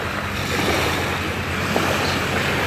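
Surf washing onto a Florida west coast beach in the morning, a steady broadband roar of breaking waves with some wind buffeting the microphone, continuous throughout and no voices.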